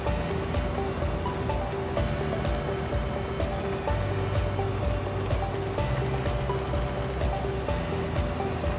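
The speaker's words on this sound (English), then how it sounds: "Now what I'm doing is I'm cooking the liquid out of the noodles. I'm cooking it on a high temperature" Ramen noodles with teriyaki pork stir-frying in a pan on high heat, a loud, dense and continuous sizzle that holds steady with no pauses.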